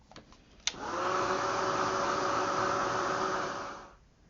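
Heat tool or hair dryer blowing to dry paint on an altered paintbrush assemblage craft. It clicks on, then roars in a loud steady whoosh for about three seconds before winding down, with no talk.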